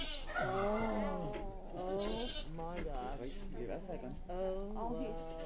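A baby goat on a farm bleats repeatedly, loud and close, with wavering cries running almost continuously and a person talking alongside at times.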